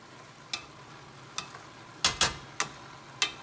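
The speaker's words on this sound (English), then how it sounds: "So you mix the onions with the spinach." Onions and spinach frying in a pan are stirred with a utensil: six sharp, separate scrapes and clacks at uneven intervals, close and fairly loud over a faint steady sizzle, with no voices.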